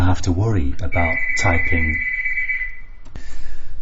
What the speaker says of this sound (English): that was my doorbell going there